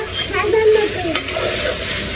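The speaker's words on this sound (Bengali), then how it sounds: "এই যে হলুদ লবণ মরিচের গুঁড়া দিয়া কষাইতেছি" A spice paste of ground cumin, garlic and coriander powder, with turmeric, salt and chili powder, being stirred and sautéed in oil for a prawn dish: a short burst of scraping stirring over a soft, close sizzle.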